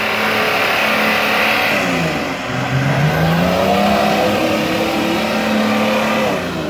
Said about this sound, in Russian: Крепкий у патруля мотор